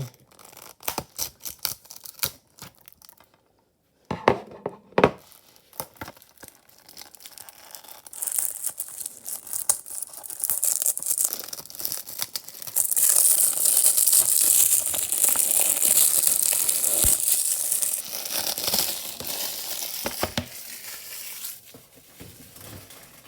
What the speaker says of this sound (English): Now let's open up the plastic and take out our DVD.